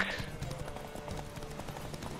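Horse hooves clip-clop steadily as a horse is ridden in The Witcher 3, a continuous rhythmic trot under a faint voice, moderately close and even in loudness.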